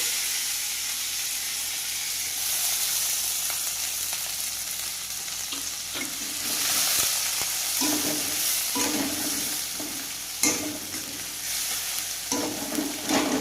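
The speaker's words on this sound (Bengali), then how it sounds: "এইগুলো একটু হালকা লাল লাল করে ভেজে নেবো" Steady sizzling of onion and tomato frying in a pan, with scraping stirs and clinks of a spoon growing more frequent toward the end.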